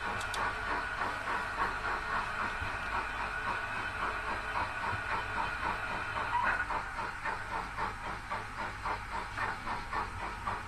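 A small Dapple model railway locomotive runs on an indoor layout, giving a steady mechanical whirr with a faint rhythmic clicking that continues unbroken throughout, with no talking.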